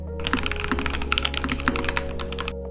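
Fast, continuous typing on a mechanical keyboard with Gateron yellow switches, close and loud, with dense clacky keystrokes and a few heavier bottoming strikes, over a faint steady background hum.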